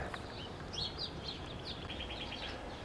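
Several small birds chirp and twitter outdoors during a snowy winter in a town, their calls faint over a steady background hiss.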